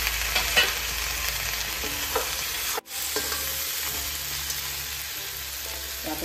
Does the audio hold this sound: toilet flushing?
no